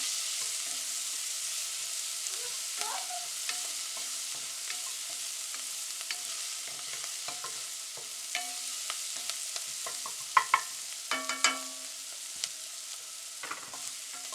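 Shallot browning in a pan, a soft steady sizzle close by with sparse pops and a few sharper clicks of stirring against the pan toward the end; no one speaks.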